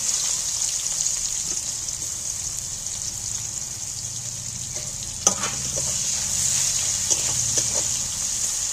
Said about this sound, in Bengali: এইবার যে কেটে রাখা পেঁয়াজগুলো তুলে দিচ্ছি